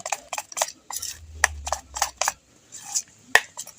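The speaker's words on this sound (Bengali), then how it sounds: "নুন আর হলুদ গুঁড়োটা ভালোভাবে মিশিয়ে নেব" A spoon clinks and scrapes in a pot while salt and turmeric powder are stirred into red lentil dal, giving short irregular taps and knocks with a low thud midway.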